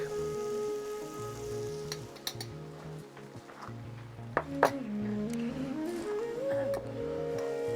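Onions and peppers frying in hot fat in a kadai for a prawn, cashew and coconut curry: a steady soft sizzle with a few metallic clinks, over a background of sustained musical tones.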